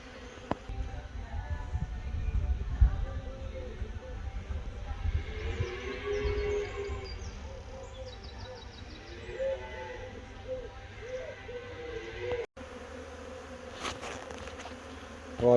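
A swarm of honey bees buzzes in a steady, dense hum in a corner of a bee house, loud and close and continuing unbroken without talk.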